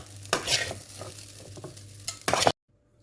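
Garlic and onion sauté in a hot pan, giving loud sizzling and stirring scrapes, with a strong burst near the end before the sound cuts out abruptly.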